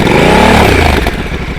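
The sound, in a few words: Honda Africa Twin parallel twin motorcycle engine running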